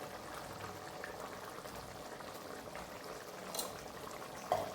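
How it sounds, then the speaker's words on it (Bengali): Prawns in a curd sauce simmer in a pan with a soft, steady bubbling hiss and a faint clink near the end. "এবার 2 মিনিট আমি দেখো ফুটিয়ে নিয়েছি"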